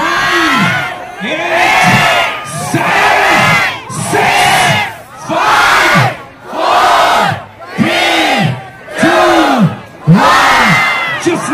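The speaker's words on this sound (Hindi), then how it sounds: "एक जोरदार तालियों के साथ हम स्वागत करें" A large concert crowd in Ranchi welcomes the band with loud, sustained cheering and shouting, rising and falling in about nine rhythmic, chant-like bursts.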